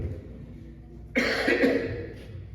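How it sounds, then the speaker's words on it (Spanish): A burst of coughing after a quiet stretch, a few rough coughs close together, fairly close and moderately loud, with no talking. "Me disculpo por la tosecita que tengo."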